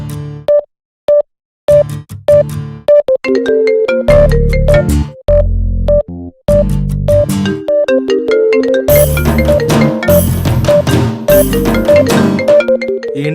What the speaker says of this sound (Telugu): ఎవరో ఫోన్ చూడు ఒకసారి